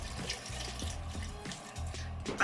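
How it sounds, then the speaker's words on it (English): Water runs into a pot of Jamaican stew peas with pig tail, a steady gentle splashing pour heard close and fairly quiet. "I'm going to add more water."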